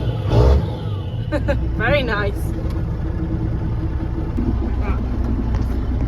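An old tractor engine runs and revs, blowing black smoke, with a chugging low rumble while a person talks briefly over it.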